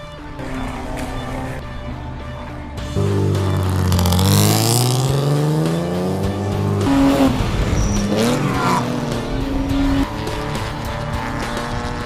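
A BMW M3 race car roars around Eagles Canyon Raceway, its engine note climbing and dropping through gear changes as it runs close and loud, with bursts of tire squeal.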